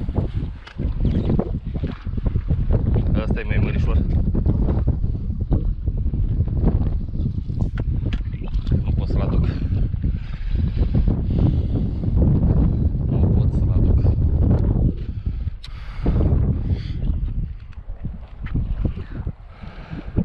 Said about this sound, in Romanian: Ce bate vântul ăsta.